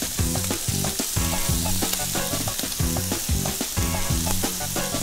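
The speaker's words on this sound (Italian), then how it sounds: "E teniamo sempre controllati i spiedini. Bene, 2 minuti sulla piastra" Mushroom and meat skewers sizzle steadily on a hot griddle, a constant crackling fry with rhythmic pulsing patterns repeating throughout, no talking.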